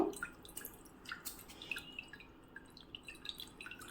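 Faint, irregular water drips fall one after another from hung curd cloth in a quiet space, soft and close with no talking.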